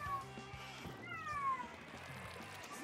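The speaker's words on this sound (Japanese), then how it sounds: "めっちゃ猫鳴いてる。" A cat meows during a Splatoon 2 match, a few drawn-out rising and falling calls heard over busy game music and sound effects.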